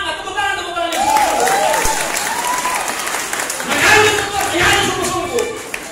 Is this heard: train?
no